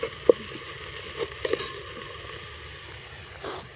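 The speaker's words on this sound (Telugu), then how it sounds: "ఉల్లిగడ్డలు అయితే మంచిగా ఫ్రై అయినాయి గోల్డ్ కలర్ వచ్చింది కదా" Onions fry golden in a pan with turmeric added for a chicken fry, a steady low sizzle with a few soft spoon stirs and taps near the start and no speech.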